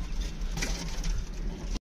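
Pigeons cooing softly in a loft while birds are paired and shut in, a low murmuring coo over a faint background rumble, continuous for under two seconds before cutting to silence.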